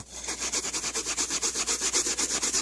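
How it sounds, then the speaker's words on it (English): A magic eraser scrubs dirt off a scuffed surface in quick back-and-forth strokes, about five per second, a close, steady rhythmic rasping with no talking. "I'm gonna see if I could get that off the magic eraser here."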